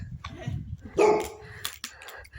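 A dog barks outdoors in a village setting: a short, loud bark near the middle, with scattered softer yips and muffled background activity around it.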